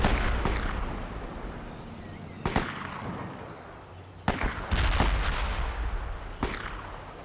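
Rocket launchers firing in the World in Conflict video game, with sharp repeated blasts at irregular intervals over a dense, continuous rumble of battle noise.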